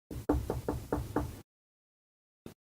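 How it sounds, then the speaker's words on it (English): A closet door is knocked lightly five times in an even, quick rhythm, followed after a pause by a single further tap, close and dry in a quiet room. "he heard a light knocking on the closet door"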